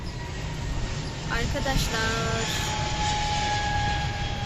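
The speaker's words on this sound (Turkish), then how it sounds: "sürekli uçak geçiyor. inanılmaz derecede uçak geçiyor." A fixed-wing airplane passing overhead outdoors in a garden, a steady broad engine roar with a rising whine that holds throughout at moderate loudness, with a person speaking briefly over it.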